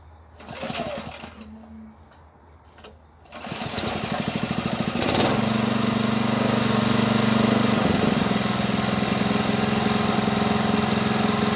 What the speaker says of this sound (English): you heard me getting that generator started